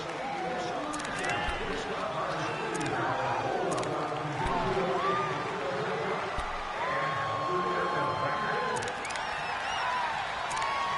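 A football video game stadium crowd roars as a continuous dense wash of noise with scattered whistles and shouts, while a commentator talks over it.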